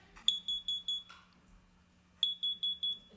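A smoke detector sounds two close bursts of rapid, shrill electronic beeps, four to five beeps each, separated by a pause, loud against a quiet room.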